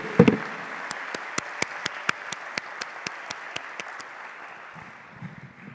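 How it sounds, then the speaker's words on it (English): An audience at a Pan African Mathematics Olympiad ceremony applauding for Rwanda: a steady, rhythmic patter of clapping that gradually fades away. "je prie l'assistance de partager avec moi les applaudissements pour le Rwanda"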